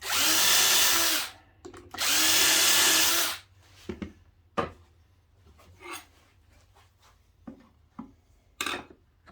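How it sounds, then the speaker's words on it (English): A self-centering drill whirs loudly into wood for a Shaker-style cabinet door in two bursts, followed by scattered clicks and light knocks of handling. "I actually will use a self-centering drill"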